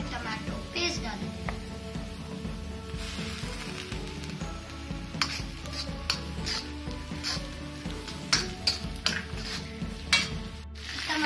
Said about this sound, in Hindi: टमाटो और प्याज को अच्छे से भूनेंगे